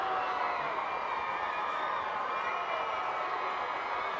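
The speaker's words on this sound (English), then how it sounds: "You can hear the crowd." A steady roar of a large crowd fills a stadium after the annual Cannon Game college football rivalry, a dense, continuous wash of voices and cheering with no breaks.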